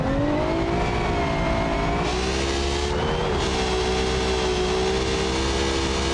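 A Formula Three race car at the Brazilian Grand Prix, its engine droning steadily at high revs with pitch dips as it brakes and turns, the sound loud and continuous.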